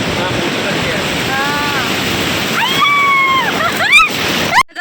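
High-tide sea waves on Shrivardhan beach wash in as a steady, fairly loud surf roar, with brief voices and tonal calls rising over it in the last couple of seconds.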